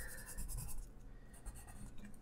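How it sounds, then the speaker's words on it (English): Colour pencil scratches rapidly across sketchbook paper, close up, in quick repeated strokes with a dry, grainy texture. "I always love adding texture with the colour pencils."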